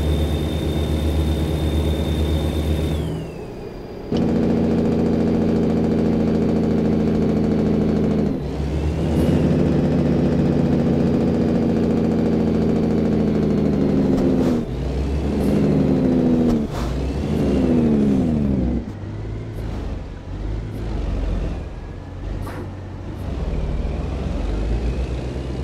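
A heavy truck engine in American Truck Simulator, hauling from Las Vegas to Tonopah, drones steadily, then shifts into a harsher, rising and falling roar of jake-brake engine braking with pitch swoops, loud and close without talk.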